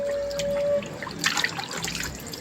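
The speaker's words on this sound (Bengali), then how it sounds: "এবার পাতাগুলোকে জলে ভালো করে ধুয়ে নেব।" Ash gourd leaves being washed in water: a steady trickle and splashing with light drips, close and fairly loud, growing busier as hands move the leaves.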